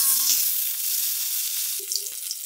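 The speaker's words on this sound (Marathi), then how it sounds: "आता मी फोडणी देऊन घेते पटकन." Curry leaves and onion sizzle in hot tempering oil in a home kitchen pan, a steady close frying hiss with a few soft stirring clinks and no talk.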